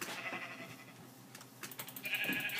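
Bleating sheep in a Minecraft-style block game, a couple of short bleats near the start and again near the end, close and moderately loud with little talk over them.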